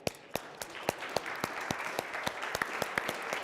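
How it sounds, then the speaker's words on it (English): An audience at a debate on physician-industry collaborations claps. The applause is fairly faint, made of scattered distinct hand claps that grow denser over a few seconds. "So let us applaud you for being here at 8 o'clock"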